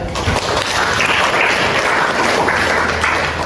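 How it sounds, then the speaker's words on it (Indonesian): Students in a classroom applaud a classmate, Kayla, a full, loud burst of many hands clapping together that carries steadily for several seconds without speech. "Tepuk tangan untuk Kayla"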